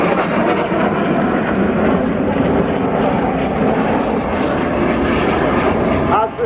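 Synchro pair of display jets at a seaside airshow rush past in a loud, sustained broadband roar lasting several seconds, with a public-address commentator talking over the engine noise.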